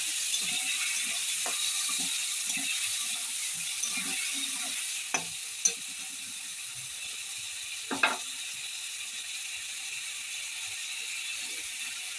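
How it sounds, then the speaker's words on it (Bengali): Chopped tomato frying with spices in a pan, a steady soft sizzle with occasional faint scrapes and clicks from stirring, heard alone at moderate volume. "টমেটোটা আমি কিছুক্ষণ ধরে এই মশলার সঙ্গে আমি নেড়ে নেবো।"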